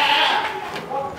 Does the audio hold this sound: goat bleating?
yes